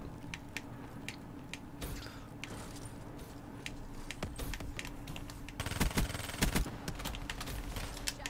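Rapid automatic fire from the Vesper submachine gun in Black Ops 3's Eclipse DLC multiplayer. Sharp crackling bursts and scattered single shots are loud and close, and a denser volley comes near the end.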